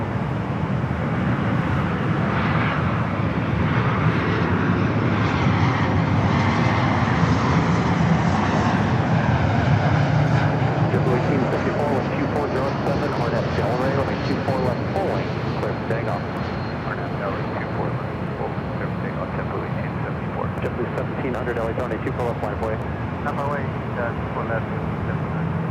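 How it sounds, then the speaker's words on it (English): A Breeze Airways Airbus A220-300 jet airliner at LAX produces a loud, continuous engine roar that swells and shifts as it passes, while people talk in the background. "Breeze Moxie, the Airbus A220-300 up next."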